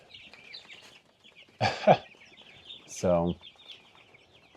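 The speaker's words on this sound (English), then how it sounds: "Okay, we've got the brooder finished up. 2-week-old chicks looking good. Getting lively over there." Two-week-old chicks in a brooder, a continuous faint chorus of high chirps and peeps with a couple of louder, nearer calls standing out, while a person speaks briefly.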